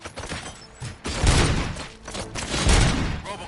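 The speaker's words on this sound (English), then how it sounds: "Gunshots? What's going on?" Bursts of gunfire from the video game RoboCop: Rogue City, a loud rattling volley followed by a second heavy burst, with booming low impacts and no speech.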